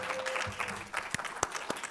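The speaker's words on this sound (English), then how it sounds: "let's give them another round of applause for our announcer winner" Applause for a student public speaking showcase winner, a dense patter of clapping with a few sharper individual claps standing out, moderately distant and fairly quiet.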